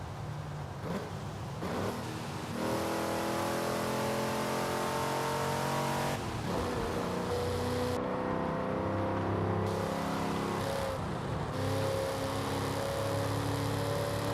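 An in-game V8 Ford Mustang from around 1987 with a four-speed gearbox drives in Forza Horizon 5, its engine rising in pitch through the gears with gaps at the shifts, steady and fairly close, with no talk.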